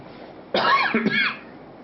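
A lingering cough, heard as one short burst of coughing with a brief second hack, loud and close in a quiet room, no talking.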